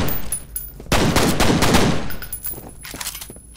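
Dual pistols fire in the shooter game F.E.A.R., a rapid burst of loud close gunshots around the middle, with scattered quieter shots and game ambience before and after.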